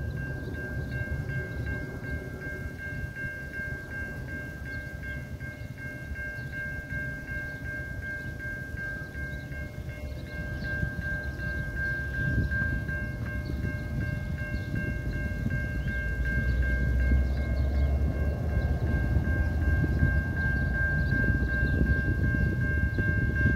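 A local train rumbling past a railroad crossing gate in Illinois, USA, with a steady crossing bell ringing throughout and the heavy rolling wheels growing louder and nearer.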